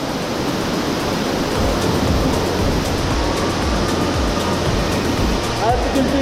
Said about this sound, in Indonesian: Ini air terjunnya di sini.